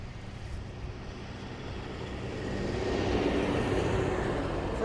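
An aircraft at Dublin Airport, a distant low jet rumble that swells gradually louder over a few seconds, steady and unbroken with no one talking.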